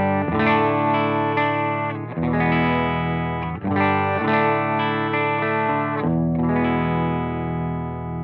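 Fuzzy, distorted electric guitar chords through a Spaceman Sputnik III germanium fuzz pedal, a Nash T63 and a Benson Monarch Reverb amp, ring out in a slow sequence of sustained strums, with no talking.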